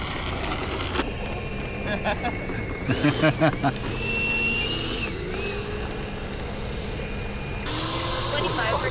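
Model airplane engine at a flying field on an Independence Day sunrise flight, a steady whining drone that rises and shifts in pitch through the clip, with voices talking over it.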